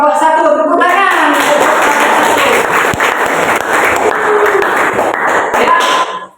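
Students in a classroom clap for a group that has just presented, a burst of close, loud hand clapping that starts after a spoken word and cuts off abruptly at the end.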